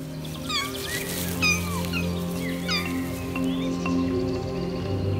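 Two-week-old lynx kittens call in a forest, a series of thin, high, repeated mewing cries over a steady low background hum, close and moderately loud.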